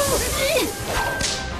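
A cartoon whip lashes a snake monster in an animated fantasy series, a sharp whooshing crack followed by swishing sweeps and a bright slash near the end, loud and close with no talk over it.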